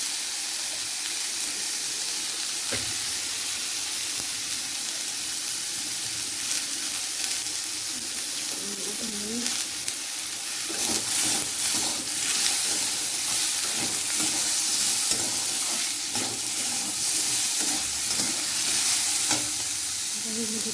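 Vegetables seasoned with turmeric fry in a pan, giving a steady, close sizzling hiss with light stirring scrapes throughout.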